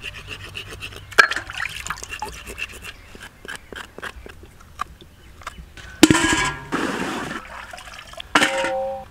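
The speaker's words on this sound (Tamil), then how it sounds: "காலை நல்லா சுரண்டி 4-5 தடவை பச்சை தண்ணியில் நல்லா அலசி எடுத்துக்கோங்க" Goat legs being rinsed by hand in plain water several times after scraping, giving a few loud splashing, sloshing bursts over quieter rubbing and dripping noises.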